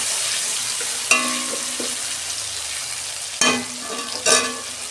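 Salt, chilli powder and turmeric fry in oil for Bengali-style dal, a steady close sizzle broken by a few stirring scrapes of a spoon against the pan, with no talking.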